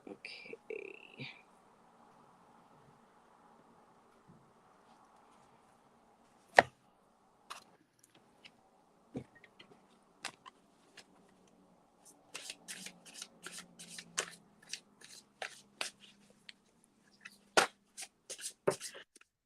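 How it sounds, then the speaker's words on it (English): A deck of tarot cards being shuffled by hand at close range, with sharp riffling snaps and soft slides in irregular bursts, sparse at first and then denser, under a quiet room hum. "Karen, as soon as I'm done shuffling here this one deck"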